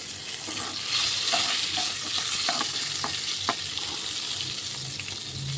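Fish frying in oil in a home kitchen gives a steady, close hiss and sizzle with scattered light crackles and pops, no talking.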